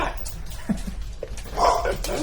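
A male dog whimpers and yips in short, high bursts during a go-home training lesson with leash and heel work, heard close alongside a man's speech and quiet background noise.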